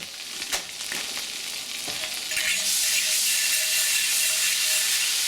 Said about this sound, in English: Now, when you go to put the corn in, you don't want to make a really thick layer, but you want to make sure the pan is nice and hot.